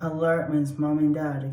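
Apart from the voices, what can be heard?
No everyday noises stand out.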